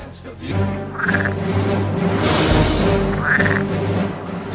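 Toads croaking in a pond, several overlapping calls in a dense, steady chorus at moderate loudness, with some louder croaks standing out near the listener.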